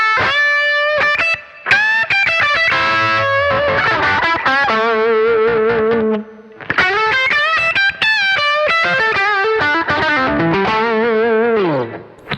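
Electric guitar runs through a Power Burst effect pedal set to its middle mode, a continuous distorted lead line with pronounced midrange, bends and quick runs, played alone without speech.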